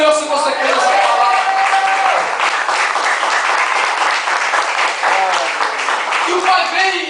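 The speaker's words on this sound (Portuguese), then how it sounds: "aplauda o Senhor se você crê nessa palavra" A church congregation applauds during a Portuguese-language sermon, with loud, continuous clapping that fills the space throughout, mixed with raised voices.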